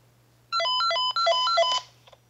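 A cheap PMR446 radio repeater sounds its ringtone: a loud, bright electronic melody of rapid stepped beeps lasting just over a second, followed by a few faint trailing blips over a steady low hum.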